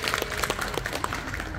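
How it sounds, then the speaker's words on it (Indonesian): An audience breaks into applause during a motivational business talk, a steady dense wash of claps held at an even level throughout, with no voice over it. "Tepuk tangan buat Mbak Wiwi."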